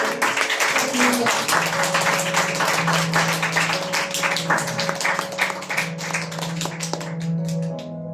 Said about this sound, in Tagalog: Palakpakan po natin ang Panginoon sa pagkabasa ng kanyang salita.